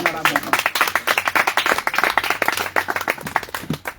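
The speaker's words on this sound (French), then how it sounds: "Acclame le Seigneur Jésus" A church congregation claps together in steady rhythmic applause acclaiming Jesus, loud, close and dense, with a few voices mixed into the clapping throughout.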